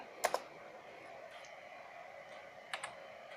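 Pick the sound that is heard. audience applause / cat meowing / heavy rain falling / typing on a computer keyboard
typing on a computer keyboard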